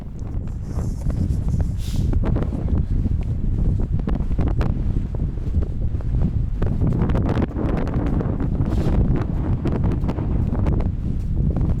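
Strong gusty wind on a downhill mountain trail in Nepal buffets the microphone with a loud, continuous low rumble and roar, rising and falling in intensity throughout.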